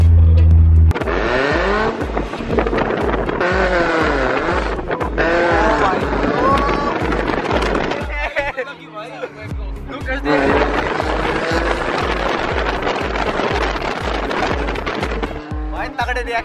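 Modified 1986 vintage Mercedes car blasting a loud exhaust, close by, with a deep throbbing roar that pulses in repeated revs and briefly drops off midway before surging back.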